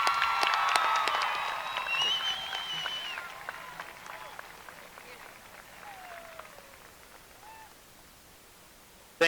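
Audience applause at the Paradise High School class of 2017 graduation ceremony, loud crowd clapping and cheering at first, then fading to scattered claps with a few high whistles or calls in the background.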